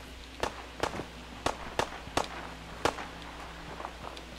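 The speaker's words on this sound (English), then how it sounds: "this seems more survivable if I just run over toward the gunfire." Gunfire pops during a firefight in the video game Fallout 4: about eight sharp, moderately distant reports at irregular intervals over a low, steady background hum.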